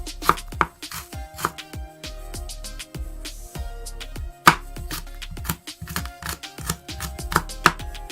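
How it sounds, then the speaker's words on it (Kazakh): Quick knife chops on a cutting board while finely chopping garlic, a rapid, uneven run of sharp close taps with short pauses, no voices. "Чеснокты майдалап турап алабыз."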